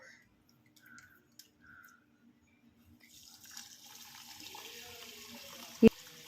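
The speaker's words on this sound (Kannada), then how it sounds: "ಅಕ್ಕಿನ ಚೆನ್ನಾಗಿ ತೊಳ್ಕೊಂಡು ನಂತರ ನಾವಿದು ನೆನೆಸಿಟ್ಕೊಳ್ಳೋಣ. ನೋಡಿ, ಹೀಗೆ ಚೆನ್ನಾಗಿ ವಾಶ್ ಮಾಡ್ಕೊಳ್ಬೇಕು." Sona Masoori rice is rinsed in water. Near-silence with faint tones gives way to a running, splashing water hiss in the second half, ending in one sharp knock.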